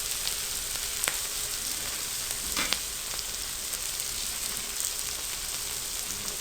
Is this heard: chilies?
yes